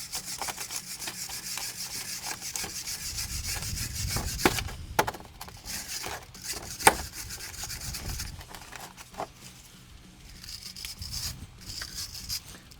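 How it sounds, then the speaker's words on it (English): A brush scrubs hard across a grimy Dacia Duster brake caliper bracket in close, repeated rasping strokes, with occasional knocks as the metal part shifts, then quieter scrubbing near the end. "I need to put it down on something so I can scrub it properly."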